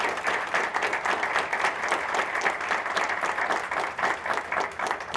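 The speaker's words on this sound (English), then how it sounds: "can we have a round of applause for our justices?" A press convention audience gives the state supreme court justices a steady, full round of applause. Dense clapping from many hands runs evenly throughout at close range.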